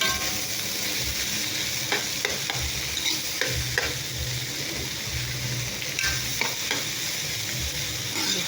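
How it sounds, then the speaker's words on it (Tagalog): Vegetables are stirred and mixed in a sizzling pan for a sepo egg recipe, with steady frying hiss and repeated scraping, clinking utensil strokes close by. "halo-halo lang natin yung veggies"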